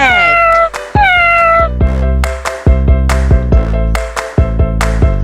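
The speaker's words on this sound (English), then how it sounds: "This is cat." A cat meows several times in a row, loud and close, with drawn-out falling cries and a shorter call near the end, backed by a bright children's rhyme-style music track.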